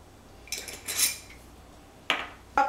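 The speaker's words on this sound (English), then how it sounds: "So we'll go and give that another stir." A spoon scrapes and clanks inside a pot of thickening dill pickle soup seasoned with smoked paprika, three separate bursts of metal-on-metal clatter, fairly close, with quiet gaps between and no talking.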